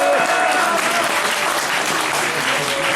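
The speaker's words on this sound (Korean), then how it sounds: "당황할 필요 없다고 박수로 응원해 주시기" At a Korean public debate forum held in a press center hall, the audience applauds to cheer on the presenters, a loud, continuous wash of clapping filling the room throughout.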